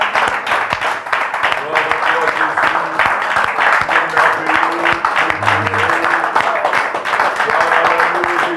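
A church congregation applauding and cheering in praise during a French-language worship service, dense sustained clapping from a crowd with voices calling out over it, close and loud throughout.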